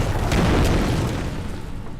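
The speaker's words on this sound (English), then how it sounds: "Still want to do a flashbang" A flashbang grenade going off in the video game Alan Wake, heard as a loud, close boom followed by a rumbling tail that fades over about two seconds.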